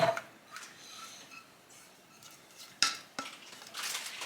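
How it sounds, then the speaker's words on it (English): Chocolate mixture of vanilla, melted chocolate, butter and cocoa powder is added to a bowl and stirred, with a few soft scrapes and clinks of utensil against the bowl, one sharper knock partway through, all close and fairly quiet. "So now we're gonna add the chocolate mixture."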